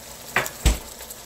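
Whole spices (cinnamon, green cardamom, cloves, black pepper) drop into hot oil in a pan, giving two quick sizzling bursts, the second heavier with a low thud, then a soft steady fizz.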